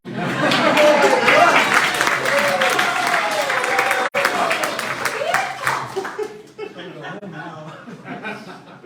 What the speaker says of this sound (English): I like applause